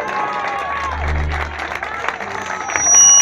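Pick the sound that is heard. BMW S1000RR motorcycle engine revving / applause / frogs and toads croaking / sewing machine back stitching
applause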